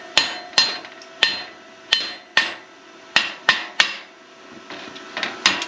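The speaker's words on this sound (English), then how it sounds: "This is a tiny body hammer." A small body hammer knocks a plasma-cut piece loose from sheet metal, about a dozen sharp ringing metallic strikes in an uneven rhythm, close and loud, with a few lighter taps toward the end.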